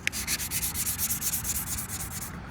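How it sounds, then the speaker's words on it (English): Sandpaper is rubbed by hand over oversprayed car paint, giving a continuous, close, even scratching with a quick back-and-forth stroke rhythm. "all I'm doing is I got the sandpaper again, just like before"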